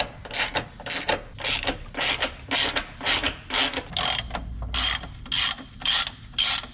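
A ratchet tightens the body mount bolts with a steady run of about a dozen sharp, evenly spaced clicking bursts, close and clear with no talking.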